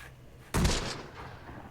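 A single loud, booming weapon blast from the Close Combat video game, set in the WWII Sicily campaign, with a short decaying rumble and no voices.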